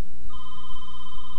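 A phone rings indoors in a clear electronic tone that starts a moment in and holds steady to the end, close and alone over a faint hum.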